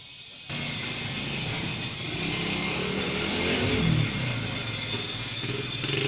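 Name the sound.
motor at LPG gas shop building pressure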